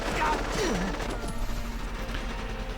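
Gunfire crackles in the video game Valkyria Chronicles, with quick shots and bursts mixed with battle effects and a voice talking over the action.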